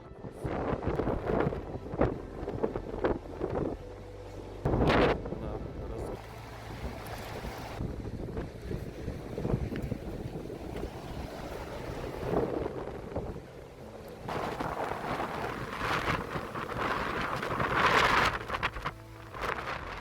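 Gullfoss, the large waterfall in Iceland, roars as a continuous broad rush of falling water, with gusty wind buffeting the microphone throughout.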